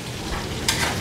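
Fish fries in a pan on a home stove, a short burst of crackling sizzle with a sharper spatter partway through, heard alone without voices.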